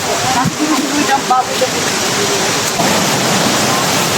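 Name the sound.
Tagbibinta Falls waterfall in Maragusan, Davao de Oro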